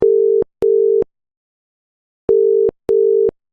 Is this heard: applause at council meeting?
no